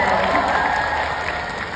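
An audience at an event at IPB applauds, a dense wash of many hands clapping together, loud and continuous throughout the short moment with some crowd noise mixed in.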